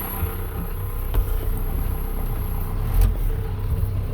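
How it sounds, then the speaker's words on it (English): A 2011 Isuzu NPR-HD box truck with a 5.2-litre diesel engine, 16-foot body and replacement motor idles steadily, giving a low, even rumble with a few faint knocks and no talking. "Okay, truck runs good"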